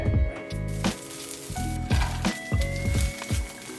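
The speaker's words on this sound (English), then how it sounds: "I just sauteed those in some vegan butter to serve as a side." Brussels sprouts sauté in vegan butter in a pan, giving a soft sizzle under rhythmic low thumps and a faint ringing tone, close and moderately quiet, with no talking.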